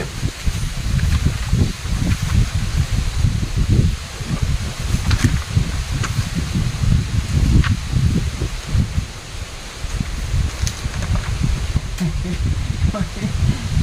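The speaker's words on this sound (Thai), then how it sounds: "โอ้ลมคัก โอ้ลมหนาวมากล่ะเด้อพี่น้องเลยลมคักลมแน่บาดนี่ย" Strong cold wind gusts through leaves in a steady, loud rustling roar with brief rattling bursts, filling the whole stretch without pause.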